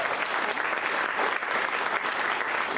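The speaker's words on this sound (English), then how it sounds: "applause is merited" Steady applause from a conference audience fills the room, dense and even throughout with no pauses, loud and close.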